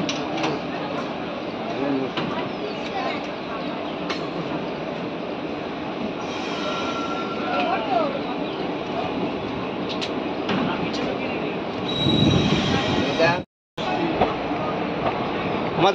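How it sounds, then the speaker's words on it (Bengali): Sahibganj–Howrah Intercity Express (13428) pulling into Bolpur Junction, with steady rumbling rail noise, wheel squeal and clatter throughout, a brief louder burst near the end, and voices talking over it. "ট্রেন এখন এসে পৌঁছালো বোলপুর জংশন।"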